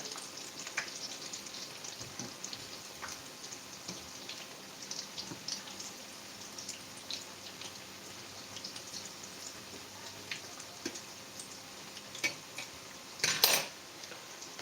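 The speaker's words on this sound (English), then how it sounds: "Some of the akara is not fully brown, so I'm going to turn them over." Akara bean fritters frying in hot oil in a pan, a steady soft sizzle broken by scattered metal clinks and scrapes as the fritters are turned over, with a brief louder scrape near the end.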